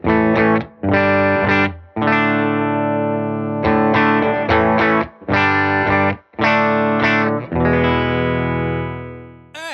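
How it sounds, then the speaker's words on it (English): An electric guitar rings out through a Silktone tube amp and a Spruce Effects Acadia Fuzz pedal with overdriven tone, playing sustained chords and riffs in short phrases with brief gaps between them. "we are plugged into a Silktone amp"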